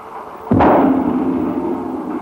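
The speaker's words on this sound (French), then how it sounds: "Le marteau est devenu marteau-pilon." A power hammer delivers one heavy strike, a sharp broadband impact followed by a loud, sustained metallic ring that decays slowly over about two seconds.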